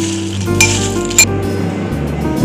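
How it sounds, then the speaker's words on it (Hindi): Lays chips chaat being tossed with chopped coriander, a steady crunchy rustling and sizzle-like crackle with a couple of brief clinks of a spoon against the bowl, close and continuous. "और अब इसे हम मिक्स कर लेंगे।"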